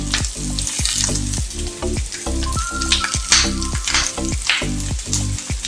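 Hilsa fish paturi frying in a pan over a gas flame, a loud, close, continuous sizzle and crackle with a steady bubbling rhythm.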